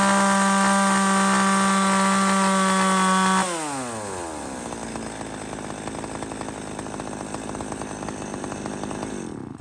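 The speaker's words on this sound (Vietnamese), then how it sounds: "máy cưa U4 giá 2 triệu đồng bác nhá" A used Japanese chainsaw, an Echo, Makita or Shindaiwa model, runs close by: a loud steady buzz for a few seconds, then the engine drops and idles in a rough, rattling throb.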